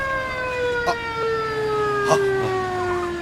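A police siren wails steadily with a rising and falling tone, moderately loud and continuous over a faint background in an Ilocano drama scene.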